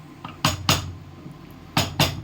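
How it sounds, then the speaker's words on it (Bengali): Food being mixed in a pan, with two pairs of sharp metallic clinks and scrapes from a utensil against the pan, spaced apart over near quiet. "ভালো করে মিক্স করে দিলাম"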